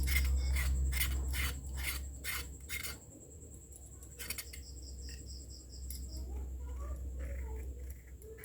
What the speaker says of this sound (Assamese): আৰু মই এনেকৈ গোটেইখিনি পটল কাটি ল'ম।